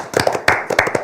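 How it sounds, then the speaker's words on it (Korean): A room audience applauds during the introduction of retired Korean generals at a civic gathering, with a short burst of close, rapid hand claps rising and falling in two waves. "박수."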